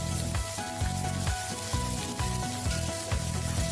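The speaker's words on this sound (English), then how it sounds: "Drop your patty in and let it sear" A beef burger patty sears in a cast iron pan with a loud, dense, continuous sizzle and crackle, heard up close with no talking.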